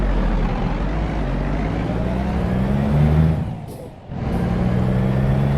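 Big rig engine in American Truck Simulator, a steady loud diesel drone that dips briefly with hissing air bursts as the truck shifts into gear, then resumes its low rumble.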